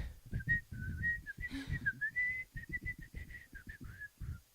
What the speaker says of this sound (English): I'm not that good at whistling.